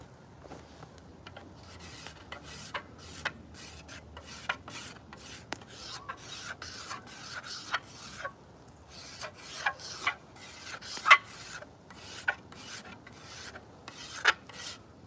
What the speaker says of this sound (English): So I need to scrape some wood off right here.